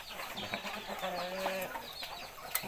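Chickens cluck on a Thai poultry farm, a busy overlapping chorus of short calls with one longer drawn-out note in the middle, fairly close and steady throughout.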